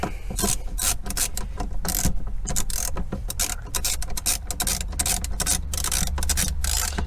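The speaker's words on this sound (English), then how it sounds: "this kind of articulating wrench, was super useful in order to get those bolts that I'm just unscrewing" An articulating ratchet wrench clicks rapidly and continuously while unscrewing bolts on a flood-damaged 2008 Porsche Cayman S, close and loud with a steady rasping ratchet rhythm and no talking.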